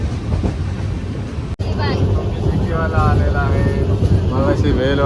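A Konkan Railway train rumbles steadily along, with a constant low roar and rattling throughout, while voices chatter in the crowded carriage.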